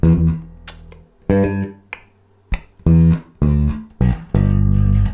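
A bass guitar plays a simple beginner groove across its third and fourth bars: separate plucked low notes with short gaps, then a quicker offbeat fill ending on a sustained note, alone and up close.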